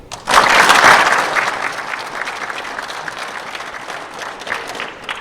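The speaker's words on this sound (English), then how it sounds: "Give yourself a round of applause." A burst of clapping from a crowd at a football combine in an indoor rink starts abruptly, peaks loudly, then tapers into steadier, thinner applause.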